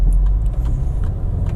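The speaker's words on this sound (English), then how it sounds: "Hopefully I caught that exhaust note on video." A 2014 Range Rover Evoque driving on a rainy road in Miami, its exhaust giving a deep, steady rumble heard close from inside the car, with faint rattles above it.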